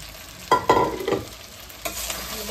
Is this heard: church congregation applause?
no